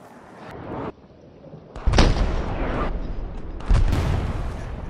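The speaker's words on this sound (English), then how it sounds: "Yeah, artillery right on my ping" Artillery shells land in a Hell Let Loose battle, with heavy booming impacts arriving a couple of seconds apart and rumbling, loud and somewhat distant, set against low battlefield ambience.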